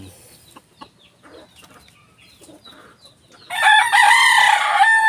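A small Talisayin gamecock rooster gives a single loud, close crow that begins after a few seconds of quiet rustling and soft clucking, then carries on strongly to the end.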